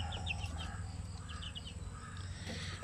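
A chicken, a Shamu Asel crossed with a pure Basilan bird, gives a few short clucks against a low steady background hum, faint and a little distant, with no speech.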